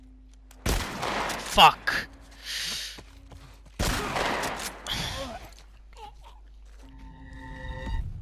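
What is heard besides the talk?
shotgun fire in The Last of Us Part I video game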